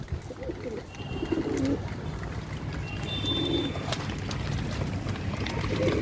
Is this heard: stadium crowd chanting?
no